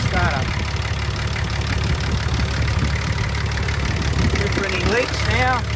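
Nissan GU Patrol diesel engine idling just after its first startup with a new injector pump, a steady low rumble running throughout while people talk over it nearby.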